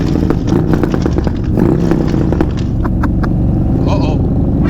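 A Harley-Davidson Softail Low Rider S with a 131ci Stage 4 engine revs hard in a few sharp bursts, loud and close, over steady road and engine rumble, with voices talking throughout.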